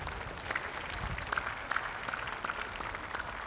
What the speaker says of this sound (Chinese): 请各位掌声鼓励